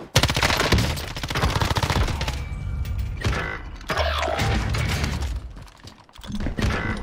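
M13 submachine gun fire in a video game, loud, rapid automatic bursts rattling close up, with brief pauses between strings of shots.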